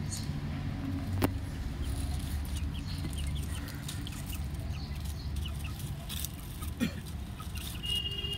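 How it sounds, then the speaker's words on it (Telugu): Chickens of a fluffy-feathered breed cluck softly in a yard, with scattered faint calls over a steady low background rumble. "చూడండి ఫ్రెండ్స్, ఎట్లున్నాయి కోళ్ళు."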